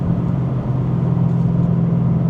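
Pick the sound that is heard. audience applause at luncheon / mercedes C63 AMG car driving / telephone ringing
mercedes C63 AMG car driving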